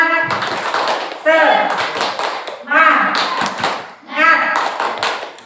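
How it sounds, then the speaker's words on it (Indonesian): A group of mothers performs a rhythmic tepuk semangat clapping routine at a school session, sharp patterned bursts of claps repeating in sets, with voices chanting along between them. "Tepuk semangat."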